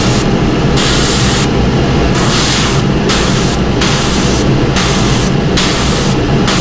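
Bursts of black primer from a spray gun onto a fishing lure's faceplate, loud hissing blasts stopping and starting in a steady rhythm, close up with no talking.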